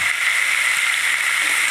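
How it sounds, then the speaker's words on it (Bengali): Vegetables for a mustard vegetable dish frying in a pan, a steady, even hiss of sizzling oil throughout, close and fairly loud. "ভালো করে ভেজে নেব।"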